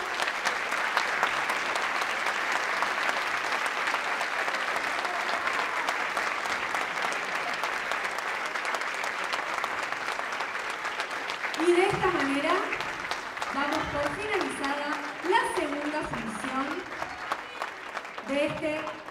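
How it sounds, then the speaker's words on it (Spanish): A live audience gives sustained, loud applause at the close of an event, steady clapping for most of the span before a voice begins speaking over the fading claps near the end. "fuerte, fuerte aplauso."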